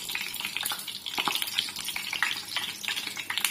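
Thin spoonfuls of kadhi tikki batter fry in hot oil, giving a close, steady bubbling sizzle with soft crackles and faint spoon stirring, no voices.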